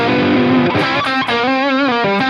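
Electric guitar run through a Helix amp patch with a poly capo pitch-shifting it down a full step, a short distorted passage of chords and sustained notes played alone.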